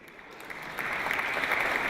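Audience at a forecasting dinner breaks into applause that starts light and quickly swells to a steady, dense clapping from the room.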